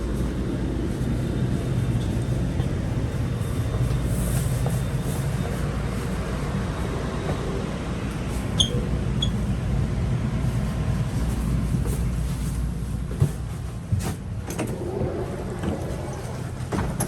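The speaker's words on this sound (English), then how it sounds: "Arriving to Rouge Hill." GO Train arriving at Rouge Hill Station in Toronto, heard from on board as a continuous low rumble of rolling wheels and motors, with a few brief squeals and clanks near the end.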